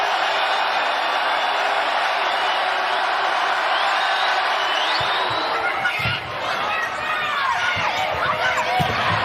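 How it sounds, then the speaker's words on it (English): Arena crowd at a Nebraska versus Penn State NCAA volleyball semifinal: a loud, steady roar of cheering and whooping from a large crowd, with a few squeaks and thumps from the court underneath. "I think that run woke the crowd up."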